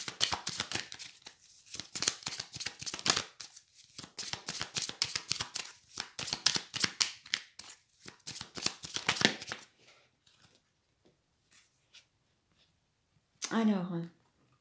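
Tarot cards being shuffled for a Sagittarius reading, a dense run of quick papery riffles and flutters lasting several seconds, then near silence broken by a short burst of a woman's speech.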